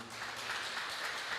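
A congregation applauds during a Portuguese-language church service, a steady, fairly quiet wash of clapping that holds evenly for the whole moment, with no voices standing out.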